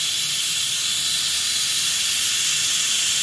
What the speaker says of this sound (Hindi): देखिए अब हमारे ये 2 सीटी हो चुके हैं